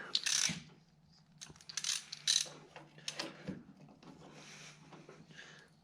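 Ratchet driving an oil filter wrench on an old abandoned mower, with close bursts of clicking pawl ratcheting and metallic knocks in uneven spurts, fairly quiet.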